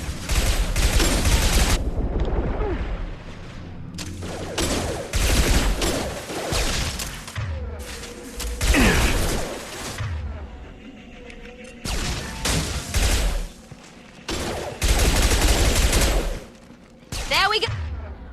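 Gunfire in the video game Mass Effect 2, loud bursts of rapid automatic shots in several separate volleys with short pauses between them, close and punchy.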